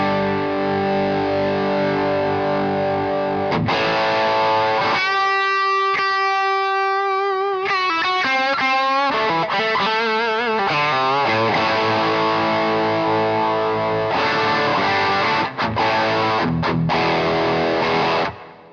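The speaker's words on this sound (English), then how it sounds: "So there's the sound of a Klone sort of style pedal" Guitar through a Klon-style overdrive pedal with the gain turned up, loud driven chords and a run of single notes in the middle, steady and dense, with no voices.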